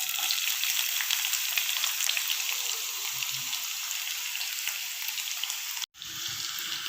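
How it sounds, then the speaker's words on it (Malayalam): Sliced onion fries with cumin seeds in an oily pan for a lentil curry, giving a continuous close crackling sizzle. One sharp cut-off occurs near the end before the frying resumes. "ജീരകം ഒന്ന് ആയി വരുമ്പോഴത്തേക്ക് നമുക്കതിലേക്ക് സവാള ഇട്ട് കൊടുക്കാം"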